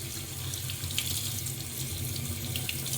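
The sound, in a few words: washing flattened rice under running water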